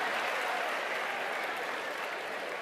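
An audience applauds at a school interview, a steady, even wash of many hands clapping, fairly faint and continuous throughout with no voices on top.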